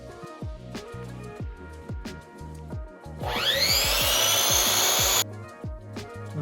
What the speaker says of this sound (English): I finished rough cutting the headstock with the chop saw.